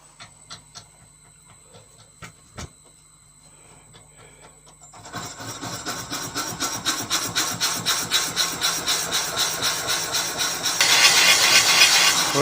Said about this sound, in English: So we get this thing drilled out.